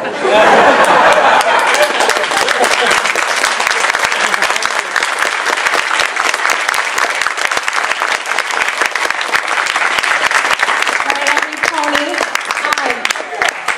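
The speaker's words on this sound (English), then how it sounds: "One more round of applause for Jayson Thiessen." A convention panel audience breaks into loud, sustained applause, dense rapid clapping filling the room for the whole stretch, with some cheering and laughter mixed in near the start.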